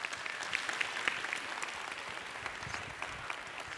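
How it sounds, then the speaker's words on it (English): Live audience at a mentalism stage show applauding, a dense steady clapping from a crowd that holds evenly at moderate volume without any voices on top. "let's give her a round of applause"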